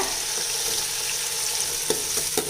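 Tomatoes sizzle and crackle steadily in hot oil with softened onions, with a few sharp clinks of a spoon stirring near the end.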